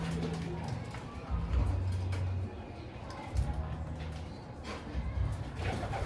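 Racing pigeons in a loft give repeated low, soft coos at close range, several rounds over a quiet room background, with no speech.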